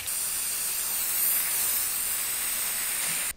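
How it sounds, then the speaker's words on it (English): Chrome spray paint hisses from an aerosol can in one continuous, close, bright spray lasting about three seconds before cutting off sharply, while painting parts of a Kia Spectra go-kart build. "I mean, this is chrome spray paint."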